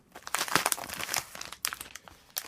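A plastic packet shipped from China, holding an ESP32 board, crinkles and tears open in close, irregular bursts of crackling with brief pauses, with no talking.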